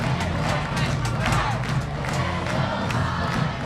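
Football crowd at a high school game, Central Catholic at Centennial, with Eagles fans cheering loudly and steadily, a dense roar of many voices throughout.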